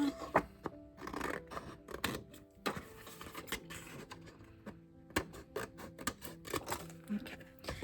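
Scissors snipping excess paper from a spooky house mini album craft piece, a rapid series of close, crisp cuts with brief pauses between strokes.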